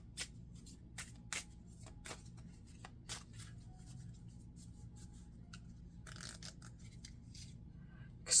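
Tarot cards are shuffled by hand, giving a series of crisp, quiet snaps and riffles at irregular intervals over a faint low background hum.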